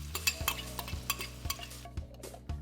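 Onions hit hot oil in a pan with a soft sizzle, broken by regular scraping taps of a utensil stirring them, close and fairly quiet.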